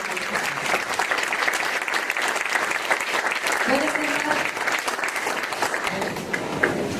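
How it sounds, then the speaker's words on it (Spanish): A church congregation claps loudly during a sermon, steady close-mic'd applause filling the whole stretch, with some voices mixed into the crowd noise. "Dale un fuerte aplauso a la palabra de Dios."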